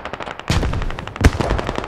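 Rapid, loud bursts of machine gun fire in the military shooter game Squad, close by, two sustained volleys of evenly spaced shots with a sharp crack marking the start of each burst.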